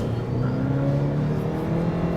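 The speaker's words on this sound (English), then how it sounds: "you hear the engine, of course," A 2023 Mitsubishi Outlander PHEV's engine pulls hard under acceleration on a highway, a steady loud drone whose pitch climbs gradually beneath constant road and wind noise.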